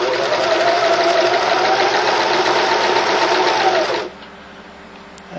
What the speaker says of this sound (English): And you start by just stitching that twill tape down.